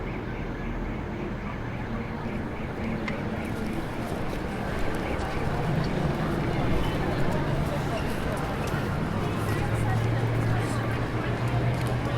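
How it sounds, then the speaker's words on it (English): Gentle chatter of people walking by on a city street blends into a steady, even wash of distant crowd murmur and urban background noise, continuous and moderately soft throughout. "Can you hear the gentle chatter of people walking by?"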